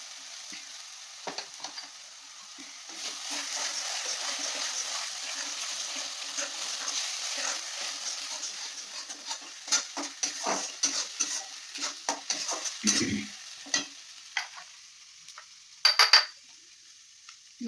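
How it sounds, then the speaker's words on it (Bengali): Tomato paste stirred into a sizzling pan for egg curry, with a soft continuous frying hiss, scattered spoon scrapes and taps, and a few louder clinks toward the end. "টমেটোর পেস্টটা দিয়ে দিচ্ছি"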